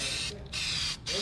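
A spray paint can hisses out a coat in two steady bursts separated by a brief pause, close and loud, with no talking.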